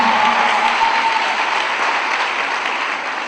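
A church congregation breaks into sustained, loud applause filling the space, steady clapping from many hands that tapers only slightly toward the end, with no talk over it.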